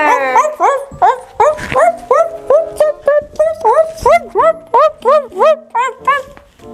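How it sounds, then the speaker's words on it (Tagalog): A dog yips and barks in a quick repeated series, high and excited, close up, with a person talking in between. "Matalino siyang aso."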